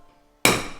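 A single sharp hammer tap marking a spot before drilling during a van water tank installation, one crisp close strike with a brief ringing decay after a quiet lead-in.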